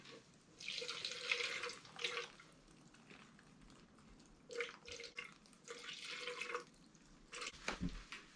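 Water pours and trickles in several short bursts, splashing and dripping onto soil at close range.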